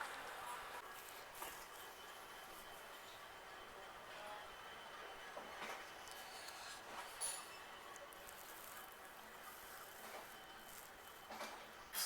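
Patalkot Express rolling into Firozpur Cantt railway station, a steady mid-level rumble of rail cars with wheel and track noise and brief clanks, with faint voices in the background.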